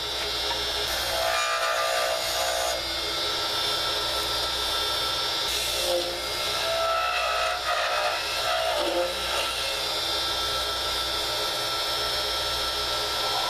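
Pen lathe spinning an Alumilite resin pen blank as a parting tool cuts it down to the bushing, a steady whining motor hum with intermittent scraping and cutting bursts.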